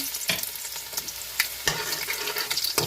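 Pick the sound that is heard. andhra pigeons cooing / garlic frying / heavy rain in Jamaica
garlic frying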